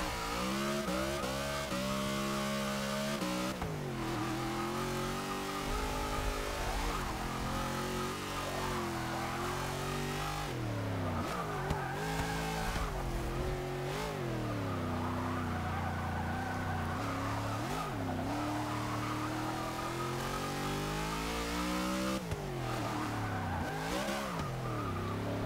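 A 1966 Ford Country Squire with extreme power in Forza 6 revs hard, its engine note climbing and falling through the gears as the tyres skid and squeal, loud and continuous with no talk.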